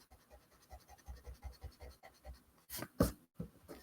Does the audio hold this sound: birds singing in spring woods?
no